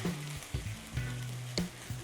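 Kinche cooks in a pan with butter, mitmita and korerima, giving a quiet, steady sizzle broken by a few soft knocks of stirring, with no voices.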